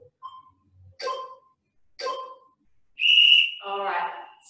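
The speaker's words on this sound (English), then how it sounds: "We're going to go off the whistle." A whistle is blown once, a clear shrill blast to start a multiple sclerosis exercise class, following a few short indistinct sounds.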